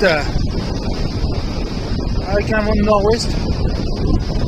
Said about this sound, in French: On a une mer qui est plutôt calme, avec un vent de nord-ouest,